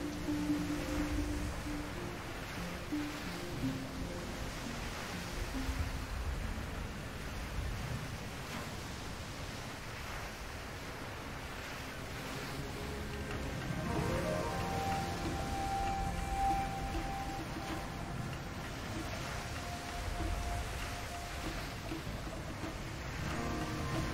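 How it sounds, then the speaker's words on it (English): A steady rushing waterfall in the pirate video game Tortuga - A Pirate's Tale, a broad, continuous roar of falling water that holds level for the whole stretch. "Waterfall."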